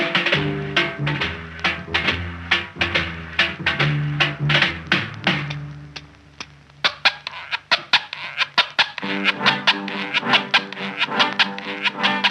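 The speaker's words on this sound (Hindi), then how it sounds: "ये दरअसल मेटल के बने लैटिन अमेरिकन स्क्रैपर से तैयार की गई है।" A song from the film Padosan plays, its rhythm carried by a comb-like rasping scrape from a metal Latin American scraper, quick repeated strokes ticking along with the music, briefly thinning midway before picking up again.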